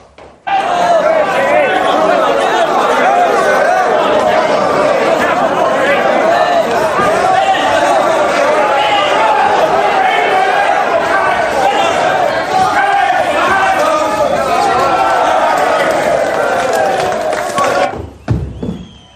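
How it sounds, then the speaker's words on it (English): A capacity crowd chatters loudly at a boxing match, a dense steady wash of many voices with occasional thumps that stays constant for about eighteen seconds before cutting off abruptly. "A capacity crowd."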